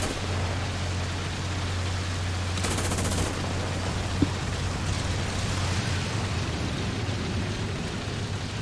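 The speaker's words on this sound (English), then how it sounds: "now the explosions are even better" War Thunder tank battle gunfire and explosions: a dense, loud, continuous roar of blasts and shots with a brief sharp crack near the middle and no talk.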